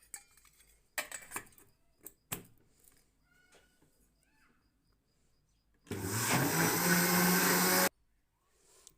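A blender jug churning cream into butter with added water whirs loudly for about two seconds near the end, after scattered clinks and knocks of kitchen handling.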